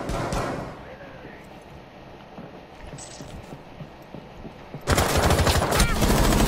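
Rainbow Six Siege gunfire, dense rapid automatic shots bursting loudly near the end after quieter scattered game sounds, with players talking over the action.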